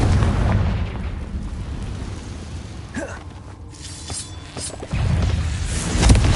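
Confringo blasting-spell explosions in a Harry Potter video game, with heavy low rumbling booms that rise again near the end, plus scattered magical whooshes and zaps, loud and close.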